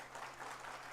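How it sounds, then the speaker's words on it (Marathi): An audience claps steadily at a gratitude ceremony in Pune, a dense, even wash of applause heard from a distance without pause. "खरं तर एकदा आपण एकनाथजी शिंदे साहेबांसाठी टाळ्या वाजवल्या पाहिजे।"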